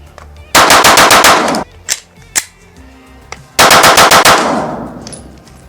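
Two rapid strings of handgun shots from a ported Hellcat Pro and a P365 XMacro on a 25-yard range, each a loud, fast volley of sharp cracks, separated by a quieter gap with a couple of isolated knocks.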